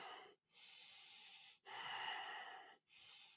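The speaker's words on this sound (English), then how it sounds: "Long, deep breathing through the nose." Long, deep breaths drawn in and out through the nose during a Kundalini yoga stretching set, three slow, close, airy cycles separated by brief pauses.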